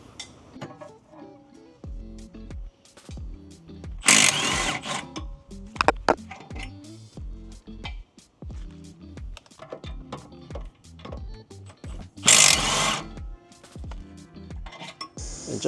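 Power tool, likely an impact wrench, removing the rear sway bar links on a 2005 Honda Accord, with two loud bursts among scattered clanks and rattles of tools on metal close by.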